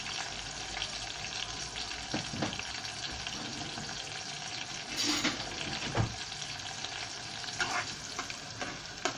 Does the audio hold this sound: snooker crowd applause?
no